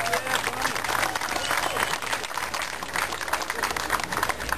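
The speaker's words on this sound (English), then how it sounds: "Please give her a round of applause." Crowd applause for an assembly member at the opening of a federally funded skatepark in Long Beach, California: dense, steady outdoor clapping that fills the whole stretch at a loud, even level.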